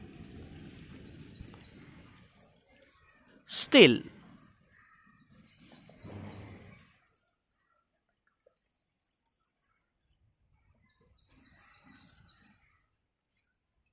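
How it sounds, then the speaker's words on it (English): Different birds, including sparrows, chirp in short rapid bursts, faint and somewhat distant, around a person speaking and one loud sweeping sound, with quiet stretches between calls. "You can listen the sound of chirping of different birds or sparrows"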